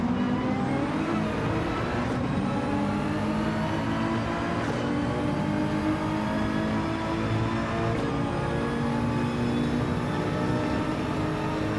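A Mercedes-AMG race car engine holds a steady, loud high-revving whine along a straight at the Red Bull Ring in Gran Turismo 7, with brief upshift breaks punctuating the continuous drone.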